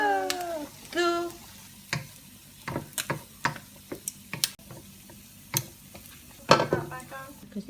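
Ground meat with carrot and potato being stirred in a pan for Filipino ginaling, with scattered utensil ticks and scrapes over a low sizzle and short bursts of voice in between.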